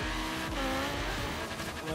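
An Audi R8 V10 5.2 races in Forza Horizon 3, its engine roaring loud and continuous with shifting pitch, rapid gear changes and brief tire squeal throughout.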